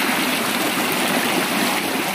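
A flowing stream on the trail to Tugpan Falls in Santa Josefa, Agusan del Sur, rushes over rocks in a steady, loud, broadband wash that is close and continuous.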